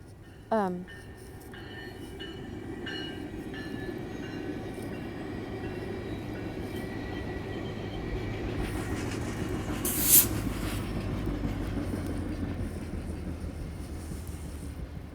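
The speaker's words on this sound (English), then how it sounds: "get ready, the train's coming. Watch the train." A train rumbles past on the rails, a steady low roar building and holding throughout, with a brief high squeal near the start and another sharp burst partway through; voices talk faintly underneath.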